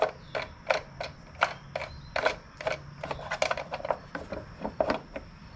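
Repeated clicking and ratcheting as a part is turned onto its threads on a Kohler Command 20 lawnmower engine, sharp irregular ticks that come close and alone with no talking.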